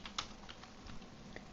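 A number typed into drawing software on a computer keyboard: a few quiet, sparse key taps against a low background hum.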